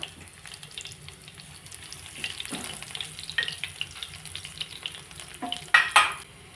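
Garlic cloves hitting hot peanut oil for a ridge gourd peel chutney tempering, a crackling sizzle that swells midway and peaks in sharp bursts near the end, with no talk.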